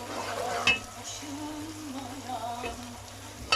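Minced meat sizzles and crackles steadily in a hot pan as it browns for a vegetable rice pilaf, with an occasional scrape or clink of stirring over the constant hiss.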